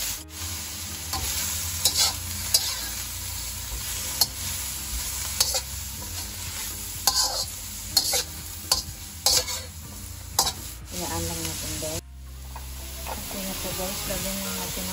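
Oil heating in a pan for simple bihon noodles, with a continuous hissing sizzle broken by sharp stirring clatters and scrapes at irregular intervals, and a brief quieter moment near the end.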